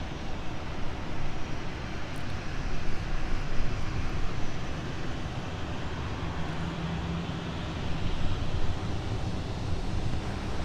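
A SkyWest airliner landing on runway 12 right at Minneapolis–Saint Paul airport, a steady, broad jet engine roar that swells and recedes slightly and continues unbroken throughout.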